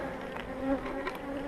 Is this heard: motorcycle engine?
no